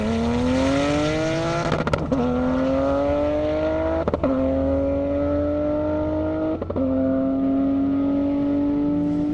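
A Porsche Turbo at an airstrip speed run accelerates hard, its engine climbing steadily in pitch through several gears, with short, sharp breaks at each upshift, loud and close throughout.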